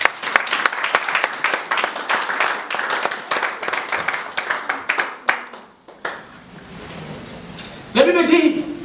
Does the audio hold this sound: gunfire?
no